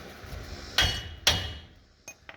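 Two loud, close hammer strikes ring out as a bolt is driven out of the transmission crossmember of a 1940 Chevy coupe, followed by a couple of small metallic clinks; no talk.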